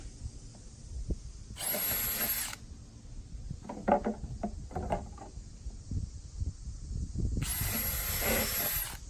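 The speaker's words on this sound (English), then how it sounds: "Pilot 4 holes on each of the base pieces." Power drill boring pilot holes into wooden base pieces, two loud whining bursts of about a second each, separated by handling knocks and rustling in between.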